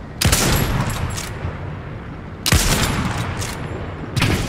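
Several bursts of rapid gunfire ring out during a video game shootout, three loud volleys each followed by a dense rattling tail, with a brief pause between them and no talk.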